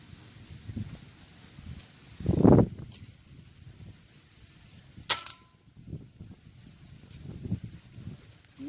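A gun fired while bird hunting gives a sharp crack near the middle of the clip, after a louder thump and amid quiet outdoor ambience with faint, sparse talk.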